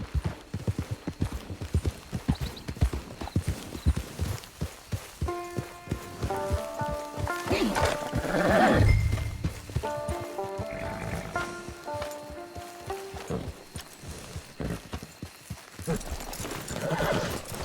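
Horse hooves clip-clop steadily in the video game Red Dead Redemption 2, a fairly close rhythmic trot with a whinny midway, set against a game music score and ambient outdoor sounds.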